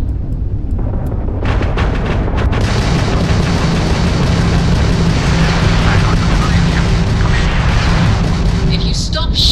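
Spaceship weapons in Starfield fire in a rapid burst of booming blasts, then give way to a loud, sustained roar of combat and engine noise that continues to the end.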